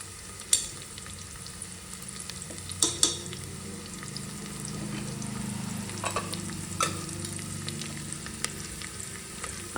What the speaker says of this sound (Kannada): ಅರಿಶಿನ ಪುಡಿ ಹಾಕೊಂಡು ಫ್ರೈ ಆಗಲಿ. ಈಗ ನೋಡಿ ಚೆನ್ನಾಗಿ ಫ್ರೈ ಆಗಲಿ ಅದು ಈರುಳ್ಳಿ